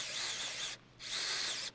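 A power drill whirs in two short bursts, a high whine that stops briefly and starts again, close and fairly quiet.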